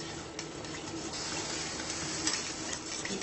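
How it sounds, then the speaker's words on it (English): Plantain infusion being stirred while heated, a continuous close swishing, bubbling liquid texture with faint clinks, steady and moderately quiet with no talk. "when I mix it, when I stir it"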